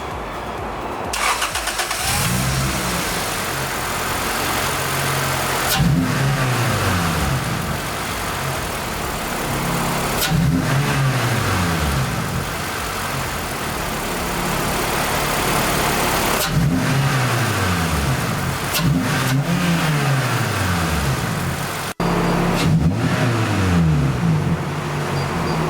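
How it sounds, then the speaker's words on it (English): A 7th-generation Toyota Celica GT-S with the 2ZZ engine starts and then revs repeatedly, each blip swelling to a rising howl and falling back to idle, loud and close, with no talking. "I'll go ahead and turn the car on and let you guys listen to why I love it."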